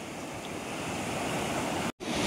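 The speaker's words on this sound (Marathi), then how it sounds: "हा समुद्राचा आवाज किती शांतता देतो मनाला" Steady surf of sea waves washing onto the white-sand, rocky shore of Wayangani beach in Ratnagiri, a continuous close rushing wash with no voices, briefly cutting out near the end.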